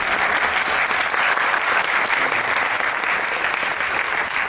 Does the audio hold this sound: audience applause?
yes